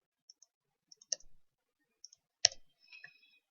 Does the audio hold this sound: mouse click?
yes